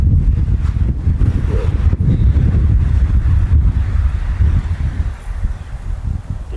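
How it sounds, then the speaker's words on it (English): Strong wind blowing outdoors during a youth turkey hunt in Mississippi, a loud continuous rumbling roar buffeting the microphone throughout, easing slightly near the end. "And here comes the wind."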